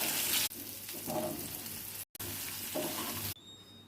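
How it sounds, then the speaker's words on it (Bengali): Bitter gourd sizzles while frying in a pan, a steady hiss with faint stirring scrapes, cut off briefly midway and ending abruptly in quiet. "এবার উচ্ছেগুলোকে ভেজে নেব।"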